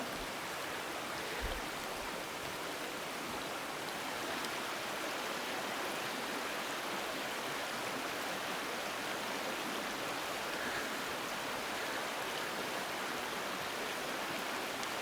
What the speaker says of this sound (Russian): Вот еще один водопад.